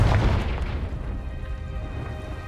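A Confringo blasting spell explodes in the Hogwarts Legacy video game, a loud booming blast up front that decays into a rumbling, crackling tail, with no talk.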